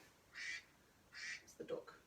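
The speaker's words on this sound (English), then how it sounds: "It's the duck." A duck quacks three times, close and fairly faint: two drawn-out nasal calls spaced apart, then a quicker, choppier call.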